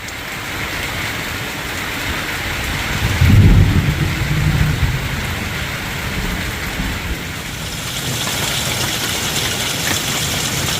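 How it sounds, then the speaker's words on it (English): Steady rain pours down during an incoming storm over a garden with raised beds, with a low rumble of thunder swelling around the middle and the downpour thickening toward the end. "we've got a storm coming in"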